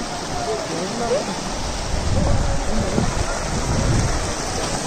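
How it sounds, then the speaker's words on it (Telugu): Steady, heavy rain pours with a low thunder rumble swelling underneath, and faint voices are barely audible through it. "వాన పడుతుంది"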